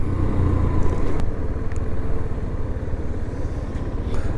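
A Sym Wolf 125 motorcycle rides along while shifting up through the gears, its small single engine droning steadily and close with a rough low throb and faint wind noise.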